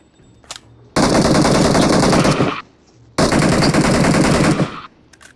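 Gunfire in a shooting video game with a sniper rifle in play, heard as two long, loud, dense bursts of rapid automatic fire separated by a short quiet gap, with no talking.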